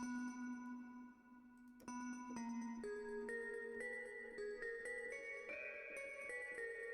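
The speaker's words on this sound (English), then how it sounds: "It's a nice little bell sound." A bright synthesized bell plays a slow rising melody of sustained tones, each note ringing with shimmering overtones, clear and alone.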